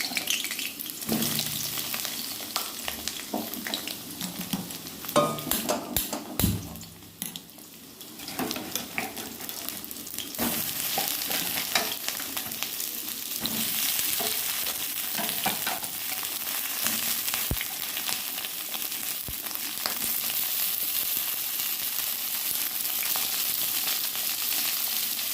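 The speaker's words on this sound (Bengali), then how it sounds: "কড়াইতে তেলটা গরম হয়ে গেছে এখন পটলগুলো একটু ভেজে নেবে" Pointed gourd (potol) pieces fry in hot oil in a wok with a loud, continuous hiss and crackle, interrupted early on by stirring knocks before the sizzle settles to a steady roar.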